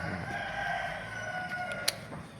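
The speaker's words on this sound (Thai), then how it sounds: "เสียงไก่หนวกห้วยเลยพี่น้อง" Chickens cluck and a rooster crows in a noisy barnyard, with a brief sharp click near the end and steady background chatter of fowl.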